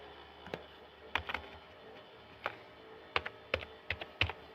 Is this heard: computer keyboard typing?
yes